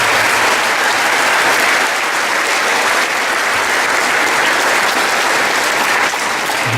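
A church congregation at Mass gives the choir loud, thick applause that stays steady and unbroken from start to finish.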